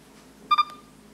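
An Arduino-based voice-activated timer sounds a short double electronic beep when its countdown ends, two quick tonal pulses close together, clear and alone against a quiet room.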